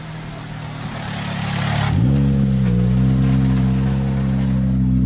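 A rally car engine on a sandy stage of Rally Serras de Fafe e Felgueiras idles near the stop line of SS12 Lameirinha, then rises in pitch and holds a loud, steady drone close by.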